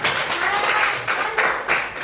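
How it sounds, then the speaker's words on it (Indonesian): Hands clapping in a school classroom, a brief burst of claps from students with a few distinct louder strikes, close and moderately loud. "Tepuk tangan gini dong"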